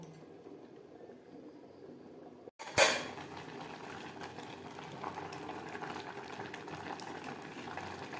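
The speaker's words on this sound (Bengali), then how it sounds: "চালও আলু বেশ ভালো করে ফুটতে শুরু করে দিয়েছে" Rice and potatoes boiling in a pot on a gas stove: a soft steady bubbling hiss that follows a sharp metallic clink of a lid or utensil against the pot, faint and close throughout.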